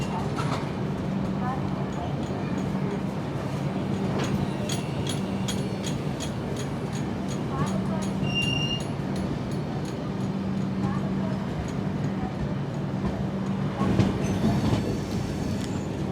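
Kerala Sampark Kranti express passing near Shoranur, a steady rolling rumble of coaches with wheel squeal and rail clatter throughout, a few sharper clanks, and faint talk in the background.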